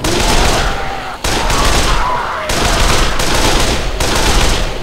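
Sustained automatic gunfire in the zombie video game Dead Island, loud, dense bursts that stop briefly and resume several times, with no talking.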